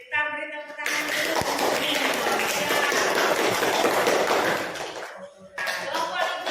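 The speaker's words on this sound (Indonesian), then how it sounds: "Yuk, kita beri tepuk tangan dulu." Classroom audience of student groups breaking into sustained applause, dense clapping from many hands filling several seconds, then fading as a teacher's voice returns.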